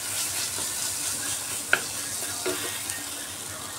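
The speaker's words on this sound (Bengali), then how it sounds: "সব মশলা দিয়ে এখন একটু ভালো করে কষাতে হবে।" Spices frying and being stirred in a pan for okra masala, a steady close sizzle with a few soft clinks of the spoon and no talking.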